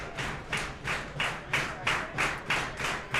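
A baseball crowd at a AA regional tournament game claps in steady, rhythmic bursts as the batter steps back into the box, a broad, moderately loud beat of hands repeating about twice a second.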